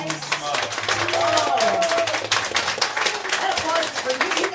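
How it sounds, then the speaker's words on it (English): A theater crowd applauds after a live band's second set, with dense, sustained clapping and cheering that runs throughout under people talking. "That applause is for you."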